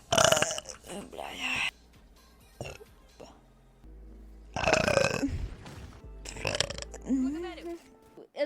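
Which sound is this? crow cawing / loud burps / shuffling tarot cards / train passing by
loud burps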